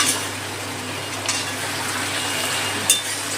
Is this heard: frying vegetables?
yes